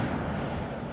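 A burst of the Incendio fire spell in Hogwarts Legacy, a dense, steady roar of flame-like noise held loud and close for just under a second with no talk over it.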